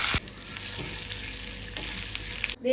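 Curry leaves and dried red chillies crackle and sizzle in hot coconut oil, a loud continuous fry with a sharp burst at the start and a sudden stop near the end.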